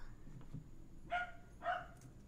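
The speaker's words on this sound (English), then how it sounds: "Oh, there goes the dog." A dog in the distance lets out two short muffled barks, faint behind a quiet room and low background hum.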